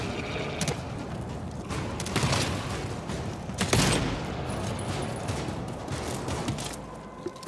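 A PDW fires in the co-op shooter GTFO, loosing loud, dense bursts of rapid gunfire one after another. A single sharper blast stands out near the middle.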